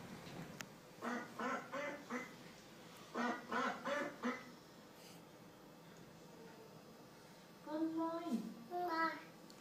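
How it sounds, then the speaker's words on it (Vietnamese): Duck quacks in two bursts of three or four harsh calls each, with a short honking call later, fairly clear against a quiet room background; a voice may be mixed in. "Con vịt."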